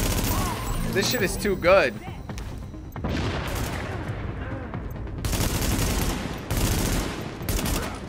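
Gunfire in Tom Clancy's The Division, with bursts of automatic weapon fire crackling in rapid volleys, some loud and close, others distant, while someone talks excitedly over the shooting.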